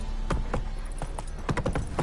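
Roach's hooves clip-clop in The Witcher 3 as a series of close, fairly regular thuds over about two seconds, clustered toward the end, with no voices.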